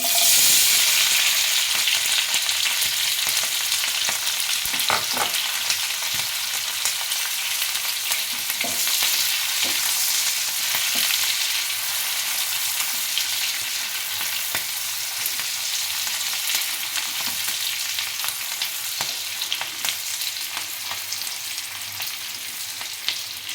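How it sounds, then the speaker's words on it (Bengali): Cubed onions fry in hot oil for chilli bhetki, a loud, dense sizzle that runs steadily throughout, with faint scrapes of stirring now and then and no voices. "আমি যে পেঁয়াজগুলো কিউব করে এক একটা করে রেখেছিলাম তো সেগুলো আমি এখন দিয়ে দিচ্ছি"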